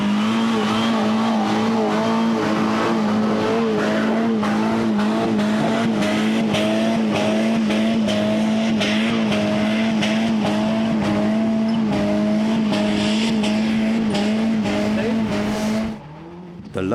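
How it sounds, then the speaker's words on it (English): Rally trial car, an X90, revving hard while climbing a greasy gradient at the 2019 MCC Exeter Trial, a loud sustained engine drone with wavering pitch and wheelspin, continuous for about sixteen seconds before cutting off. "Barry Redmayne finding lots of revs does the trick in his X90."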